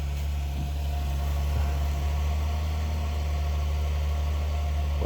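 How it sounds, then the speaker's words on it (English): A truck engine idling at the roadside before pulling out, a steady close low diesel rumble with slight vibration, continuous throughout. "Just wait till the truck pulls out"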